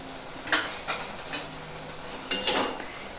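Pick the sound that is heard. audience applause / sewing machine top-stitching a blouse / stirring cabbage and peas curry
stirring cabbage and peas curry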